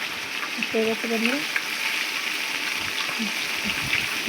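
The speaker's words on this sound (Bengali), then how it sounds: "মাছটা কিন্তু ভাজতে টাইম লাগবে" Silver carp fish frying in hot oil gives a steady, close crackling sizzle that runs the whole time, with a few brief tonal clinks near the start.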